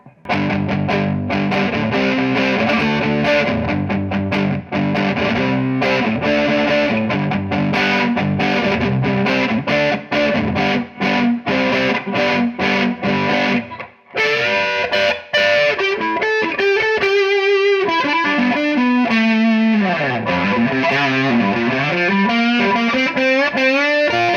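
An affordable semi-hollow ES335-type electric guitar on its neck pickup plays loud, sustained distorted chords in steady strummed rhythm, then shifts to a more melodic passage with bending, sliding notes.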